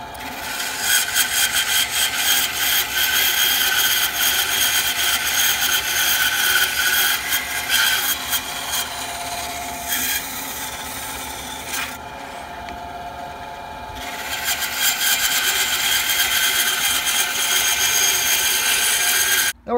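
A WEN 3960 9-inch bandsaw cuts a piece of Bocote wood held in a jig, giving a continuous close rasping buzz with a brief quieter dip midway, and no talking over it.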